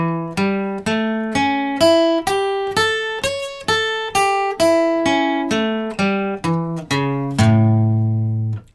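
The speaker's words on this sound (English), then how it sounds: "this is a 6-string arpeggio shape. It sounds like this." A7 dominant seventh arpeggio picked on six-string guitar, sixteen separate plucked notes climbing then descending across the strings in a steady even rhythm, close and clear, ending on a sustained low root.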